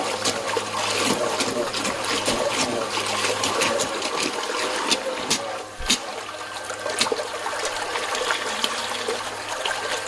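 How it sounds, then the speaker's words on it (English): A SEAFLO 14A bilge pump runs with its activation buttons underwater, pumping water in a steady, continuous rush and trickle that stays loud and even throughout, with a couple of brief knocks. "Now the pump's going to keep running until there's no more water that it can pump"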